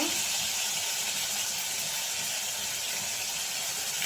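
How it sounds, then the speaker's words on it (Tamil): Ginger garlic paste sautés in a pan for a crow meat fry, giving a steady, loud, close hiss and sizzle that holds unbroken throughout with no talking. "இஞ்சி பூண்டு பேஸ்ட் போட்டு இப்படி வதக்கணும்"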